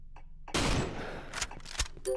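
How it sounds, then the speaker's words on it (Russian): A sharp, loud gunshot blast rings out in the horror video game Cry of Fear, followed by a few more quick, punchy shots with an arcade-like synthetic quality. "Четкий выстрел между глаз,"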